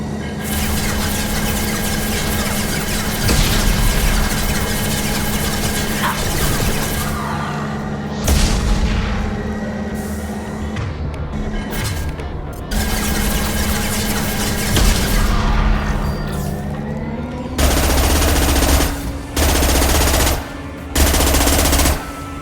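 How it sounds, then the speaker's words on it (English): A gunship opens fire in the sci-fi shooter Mass Effect 2, with loud sustained bursts of automatic fire, booms and metallic squeals, broken by short pauses and separate blasts toward the end. "Gunship above!"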